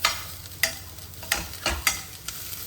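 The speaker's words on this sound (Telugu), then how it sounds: "ఆనియన్స్ వేసి ఉల్లిగడ్డలు వేసి వెల్లుల్లి వేసి దాంట్లో పచ్చికాయలు వేసినాం" Onions, garlic and green chillies being stirred in a frying pan, with a steady sizzle broken by several sharp scraping strokes of a spoon at irregular intervals, close and fairly loud, no talking.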